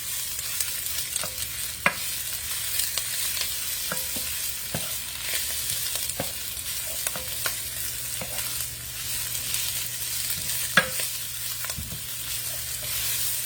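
Leafy greens sauté in a pan with onion and garlic, giving a steady close sizzle broken by frequent scraping stirs and light utensil clicks, with no talking.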